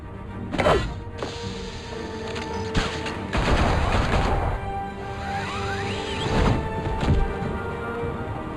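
Rapid bursts of gunfire and fusillades in Batman: The Telltale Series, loud and close, mixed with thuds and crashes across a chaotic fight scene.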